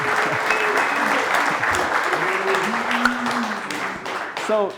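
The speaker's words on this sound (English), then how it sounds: "give a round of applause to Julian" A business event audience gives Julian a full round of applause, close and continuous throughout, with voices and cheers mixed into the crowd noise.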